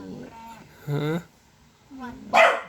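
A dog barks and whimpers in short, close bursts with pauses between them, mixed with nearby voices at home.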